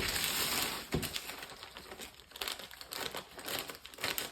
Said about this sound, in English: I'm just going to cut from a plastic bag a panel